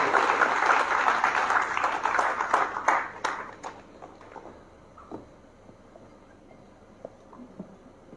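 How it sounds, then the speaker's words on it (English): A hall audience at a school alumni event claps for someone called to the stage. The applause is loud at first, thins into scattered claps after about three seconds, and a few isolated claps remain. "Please give her a big round of applause"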